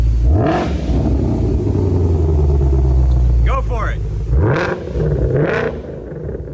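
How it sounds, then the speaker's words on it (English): A Mitsubishi Lancer Evo 8, rebuilt after a wreck and warmed up, is revved hard three times near the listener, each rise swelling over its rumbling idle, with a brief spoken remark in between. "Is it warm enough yet for some revs?"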